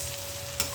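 Onions fry in a pan with ginger paste and a spice mixture, a soft, steady sizzle with a brief louder crackle near the end.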